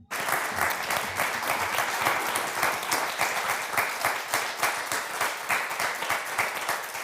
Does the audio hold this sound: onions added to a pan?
no